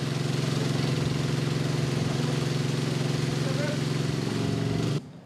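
A portable generator or drainage pump running during a disaster drill, a steady loud droning engine hum with a fast even pulse that cuts off abruptly near the end, with a voice speaking over it.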